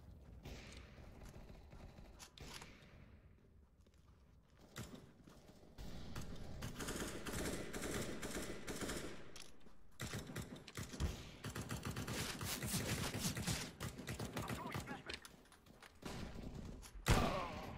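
Sniper and automatic gunfire ring out in a video game, with bursts of shots and heavy rapid volleys, loud and close, broken by brief quieter gaps.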